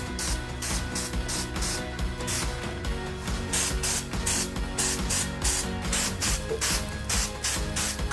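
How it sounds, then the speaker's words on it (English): A spray tip is pumped repeatedly while applying epoxy coating to a countertop, making rapid rhythmic hissing bursts with ratchety clicks, close and steady throughout with no talking. "I'm just pumping that spray tip. I'm not holding it down, and I'm just kind of using it like a hopper."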